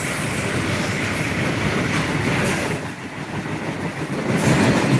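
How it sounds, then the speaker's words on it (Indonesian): Babaranjang coal freight train rolling past near Prabumulih, its wagons making a steady loud rumble with clickety-clack of wheels and faint squeal, sustained close by without talk. "Kereta api Babaranjang."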